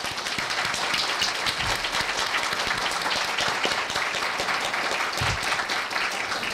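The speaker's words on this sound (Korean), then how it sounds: "다 같이 큰 박수로 감사를 드렸으면 합니다" Sustained, even applause fills a hall at a Korea University chemistry department retirement ceremony for a professor, dense clapping from a seated audience with no break or swell.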